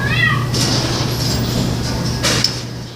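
Cats meow inside a shelter cat room, one rising and falling cry near at the start, with a steady low hum and faint rustling and thumps throughout.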